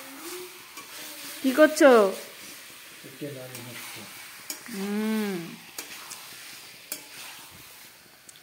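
Chicken being stirred in a pan while it cooks, with a soft ongoing scrape and faint sizzle running under several short bursts of conversation.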